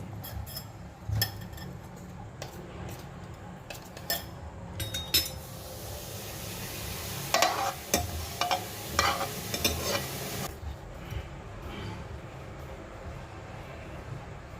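Mustard seeds and cumin fry in hot oil for an eggplant palya, giving a soft, quiet sizzle. Scattered pops and crackles come through it, with a few utensil clinks and no voices.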